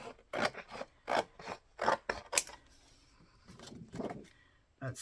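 Scissors slice through a sheet of paper being trimmed down to make an envelope, giving a series of close, crisp rasping cuts in quick bursts with brief pauses between them.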